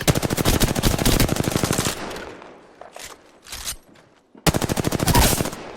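Rapid automatic gunfire in the Apex Legends video game: two loud, fast bursts of evenly spaced shots, separated by a quieter stretch of scattered distant pops and clatter.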